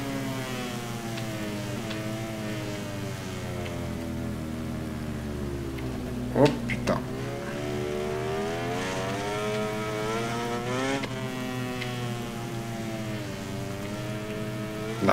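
A racing motorcycle in MotoGP 20, a video game, in the rain: the engine whines up and down through gear changes, rising pitch sweeps repeating, loud and continuous, with brief bursts of noise midway.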